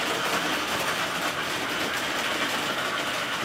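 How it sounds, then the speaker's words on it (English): A Blue Comet model train runs on a 2014 Christmas layout, giving a steady, faint rolling clatter with no voices. "the Blue Comet is going to start up"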